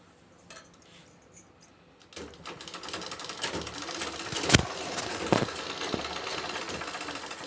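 A sewing machine stitches a blouse, starting with a few scattered clicks and taps, then settling into a steady rapid mechanical clatter with a couple of sharp knocks.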